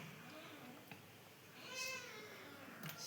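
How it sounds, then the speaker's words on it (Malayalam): Kittens meow faintly from a short distance in a home kitchen while cooking goes on, with a couple of thin, high cries over a quiet background. "നമുക്ക് പൂച്ചക്കുഞ്ഞുങ്ങളെല്ലാം കരയാൻ തുടങ്ങിയിട്ടുണ്ട്."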